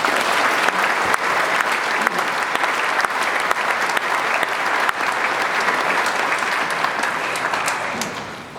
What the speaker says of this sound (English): We give them both a big round of applause.